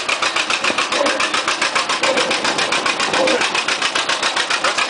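Antique John Deere tractor engine at a tractor pull in Hopedale, Illinois, running with a loud, steady, rapid chugging pulse throughout while voices talk over it.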